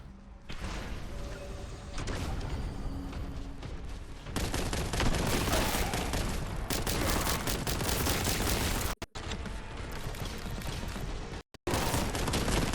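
Rapid machine gun fire blasts continuously in the Warhammer 40,000: Boltgun video game, loud and dense with sustained bursts and a couple of abrupt brief cutoffs.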